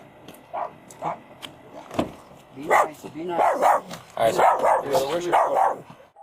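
Several dogs bark in sharp, close bursts, with a few single yaps followed by a rapid, overlapping run of barking, while people talk nearby.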